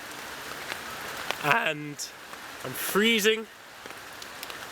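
Steady rain falls outdoors in the wild, a soft constant patter under someone talking close to the microphone, with a few brief louder bursts of voice.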